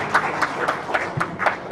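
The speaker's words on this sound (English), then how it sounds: "Can we give her a big round of applause" Audience at the Kaduna State Disability Summit giving scattered, fairly soft applause, with individual claps heard in an uneven rhythm.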